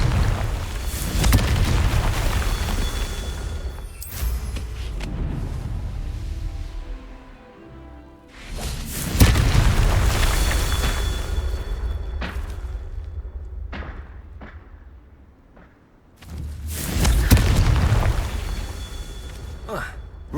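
Confringo fire spell blasts in Hogwarts Legacy, heard as a few heavy booming explosions with rumbling decay spaced several seconds apart, mixed with game music and effects.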